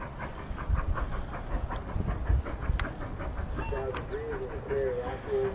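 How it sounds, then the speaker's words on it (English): A Durango & Silverton narrow-gauge train backs up slowly at the Silverton depot, rumbling and clanking along the rails, with a couple of brief high squeals and a low whistle-like tone late on, over faint voices. "Here's our train backing up to be reloaded."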